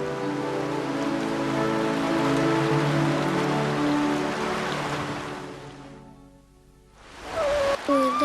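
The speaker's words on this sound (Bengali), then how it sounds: "যেইভাবে বৃষ্টি হইতেছে মনে হয় এইবারও বন্যা হইব" Heavy rain falls steadily in an animated flood-season scene, a dense hiss under music that fades out briefly before sound returns.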